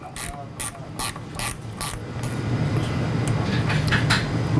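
A hand ratchet snugs a 7/16 bolt on a sliding door panel, giving a series of quick clicking bursts in uneven groups, close and clear, followed by a rising mechanical rumble underneath.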